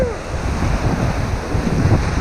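Whitewater rapids on the Salmon River rush past a raft in a steady, close roar of churning water mixed with gusty wind noise.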